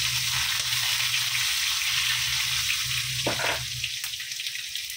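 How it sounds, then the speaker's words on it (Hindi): Chilies, garlic, cumin and mustard seeds sizzling steadily in a cup of hot oil, a loud continuous fry close up with a few brief stirring clatters, no talking. "अभी ये देखो ये मिर्ची डालेंगे और ये लहसुन और जीरा राई डालेंगे।"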